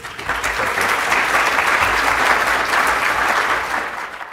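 Sustained audience applause fills a conference livestream session, a dense, even roar of many hands clapping close by at steady loudness from start to finish, with no voices over it.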